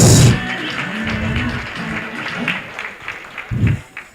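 Applause at a meet-and-greet event: scattered clapping from a small group, loudest at the start and then thinning, with a few louder claps near the end and a faint murmur beneath.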